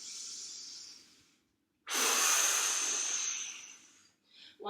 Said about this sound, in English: take a full breath in, and then blow it all out through your mouth